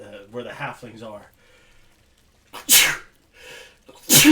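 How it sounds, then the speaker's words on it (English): Two sharp, loud sneezes burst out during a tabletop Dungeons & Dragons game session, the first following a stretch of close conversational speech and the second, stronger one closing the moment. "Stop sneezing."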